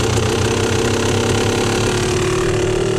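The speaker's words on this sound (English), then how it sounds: "Right about there is where I like my 2-stroke idle to be" A Yamaha YZ250 two-stroke dirt bike engine idles low and steady nearby, a loud continuous burbling drone with a fast, even pulsing beat.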